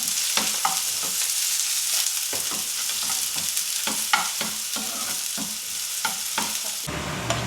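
Mustard seeds, ginger, garlic, onion and curry leaves fry loudly in hot oil for a tempering poured over tapioca, a constant close sizzle broken by regular scraping stirs, with no speech.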